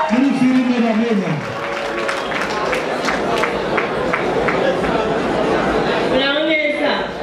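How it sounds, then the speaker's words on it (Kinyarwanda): A crowd applauds with rapid rhythmic clapping amid chatter and crowd noise, while a loud voice speaks over it at the start and again at the end. "amashyi menshi cyane"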